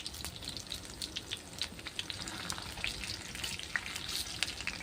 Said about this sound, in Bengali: দেখেন আমি কি সুন্দর লাল করে ভেজে নিচ্ছি।